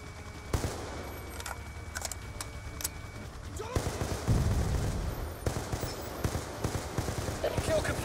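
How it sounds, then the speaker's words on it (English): A sentry gun firing in the shooter Call of Duty: Black Ops 2, heard as scattered sharp shots and bursts of rapid gunfire amid the battle din, with a person talking over it. "Is that a sentry gun?"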